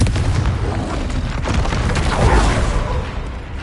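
A Confringo spell blast in the Hogwarts Legacy video game, a sustained loud rumbling of booms and crackling bursts that swells and fades over several seconds.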